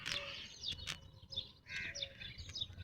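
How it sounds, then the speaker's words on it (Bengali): In an oasis forest in the Dubai desert, small birds chirp and twitter repeatedly while crows caw intermittently. The calls are fairly close and layered over a quiet outdoor background. "তো পাখির ডাক শুনতেছেন ভালোই কিচিরমিচির।"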